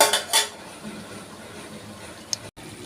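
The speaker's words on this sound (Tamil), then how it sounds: "இப்போ திரும்பவும் கொஞ்சம் மூடி வச்சிடலாம்" A lid goes onto a pan of chicken liver fry, with a couple of loud metallic clanks at the start, then a quiet stretch and one sharp clink near the end.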